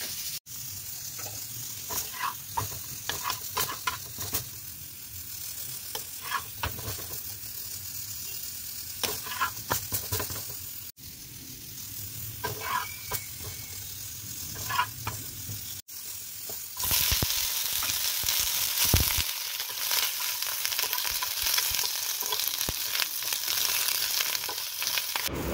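Pointed gourd (potol) slices fry in a little oil, a steady sizzle with occasional stirring clicks, growing louder and brighter in the second half.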